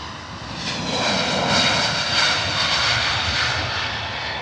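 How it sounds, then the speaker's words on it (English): A JetBlue Airbus A321neo departs Heathrow bound for JFK, its steady, close engine roar swelling slightly and then holding strong throughout the short stretch, with no talking over it. "JetBlue heading out, A321 Neo."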